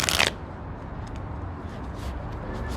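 Tarot cards being shuffled in a short, bright riffle burst at the start, followed by quiet room background with faint soft rustles.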